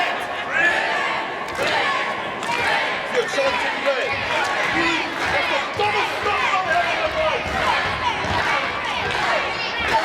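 A wrestling crowd chants and cheers around a ring during a match, with rising and falling massed voices, scattered shouts and thuds from the action.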